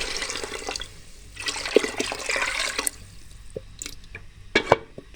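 Water is poured into a cooking pot of dal for Kashmiri dal chawal, a close splashing pour in two bursts with drips and clinks between them and no talk.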